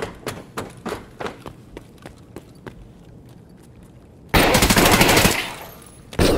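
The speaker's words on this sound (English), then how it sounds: "I shot him in the legs a few times." Gunfire in a Russian-style shooter featuring VSS and APB weapons: a string of sharp, separate single shots, then a loud sustained burst of rapid automatic fire, and a final short burst, with no talk.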